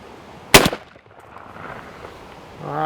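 A single sharp, loud shotgun blast from a gun with a super tight choke fired at close range outdoors, dying away quickly, followed by quiet ambience and a brief voice at the end.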